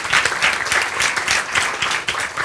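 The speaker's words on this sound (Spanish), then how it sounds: "Un aplauso también" Steady applause from a seated audience at a talk on women's leadership, dense and continuous with no breaks in the clapping.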